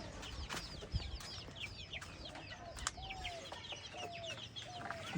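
Pakistani breed chickens cluck in a pleasant rural yard in Kushtia, with short repeated calls spread across the scene over a steady outdoor background, moderately close and fairly quiet.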